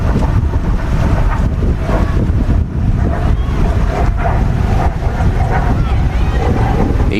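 Strong wind gusts roar steadily across an outdoor field during a 2019 women's college soccer match at Arizona Western, loud broadband buffeting on the microphone with brief lulls.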